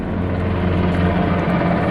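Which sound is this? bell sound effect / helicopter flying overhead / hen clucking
helicopter flying overhead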